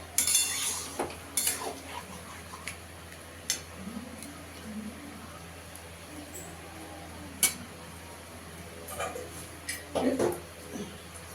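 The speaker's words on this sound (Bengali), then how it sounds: "এবার সব মিশিয়ে নেবো ভালো করে।" A metal utensil stirs fish curry with Bombay duck in a pan, giving scattered clinks and scrapes over a quiet background, close and fairly soft.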